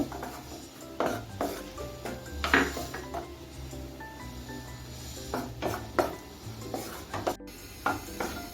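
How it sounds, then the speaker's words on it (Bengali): Raisins fry in ghee in a non-stick pan on medium heat, giving a soft, faint sizzle broken by intermittent scrapes and clinks of a utensil stirring against the pan. "এখন আমি গ্যাসটা মিডিয়ামে রেখে কিসমিসগুলো ভেজে নেব"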